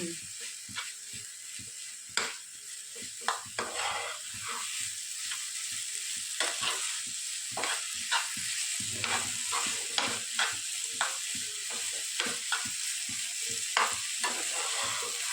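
Paneer masala mixed with chopped cheese slices being stirred in a hot pan, a soft continuous sizzle with regular scraping spoon strokes up close, no talking.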